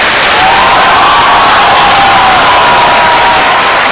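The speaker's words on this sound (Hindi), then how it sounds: "जरा जोरदार तालियां बजाते रहिएगा" A studio audience on the quiz show Kaun Banega Crorepati claps and cheers very loudly, a saturated, unbroken roar of hands and whoops filling the whole stretch.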